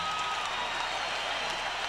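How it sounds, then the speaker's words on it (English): Boxing arena crowd at a featherweight title fight applauding and cheering, a dense steady roar of clapping with no break. "How about a round of applause for two featherweights in this ring who for 7 1/2 rounds gave us one hell of a war"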